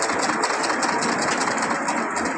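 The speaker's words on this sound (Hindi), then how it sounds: "ये मैं आपको सिलाई लगा कर, एक और सिलाई लगा कर बताता हूँ" A small domestic sewing machine stitching fabric, making long stitches, runs close and steady with a continuous rapid mechanical whir for the whole stretch, no voices over it.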